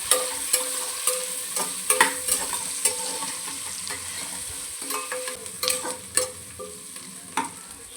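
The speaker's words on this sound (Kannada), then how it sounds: "ಈ ಥರ ಚೆನ್ನಾಗಿ ಹುರ್ಕೊತಾ ಇದ್ದೀನಿ" Onions and green chilies frying in oil in a pan while being stirred, a steady sizzle broken by frequent scraping and clinking strokes of the spoon, close and busy with no voices.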